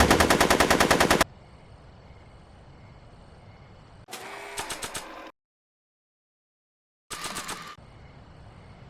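Bursts of rapid automatic gunfire from a Back to the Future video game, loud and close, with a quiet pause between them.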